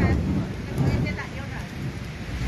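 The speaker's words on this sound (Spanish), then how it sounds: "está lloviendo" Rain falls steadily outdoors, a dense broadband hiss with low rumbling weight, continuous and fairly loud with no clear individual drops.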